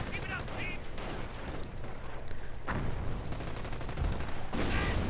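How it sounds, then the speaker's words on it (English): Mortar shells land amid sustained video-game battle noise, with heavy booming impacts and rattling gunfire layered throughout, loud and dense, under a voice. "Nice hit by that mortar."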